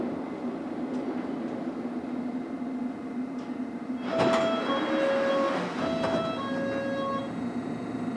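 Steady interior rumble of a fast London Underground Metropolitan line train running near Chalfont and Latimer, a continuous low drone with a brief squealing surge and faint tonal whines midway.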